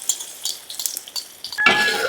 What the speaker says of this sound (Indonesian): Lanjut kita goreng telur dadar ini teman-teman.